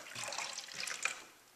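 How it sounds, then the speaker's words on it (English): Liquid ceramic glaze for coating a vase is stirred, giving a brief, soft wet swishing and sloshing that fades out within about a second and a half, with no voices. "I'm going to stir again."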